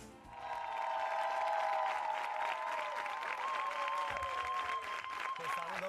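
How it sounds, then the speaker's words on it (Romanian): Steady studio audience applause with no music, loud and sustained throughout, with a voice talking over it. "Iată, aplauze! Doar aplauze fără muzică."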